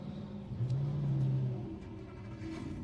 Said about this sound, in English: This large field of 30-plus cars springing to life here.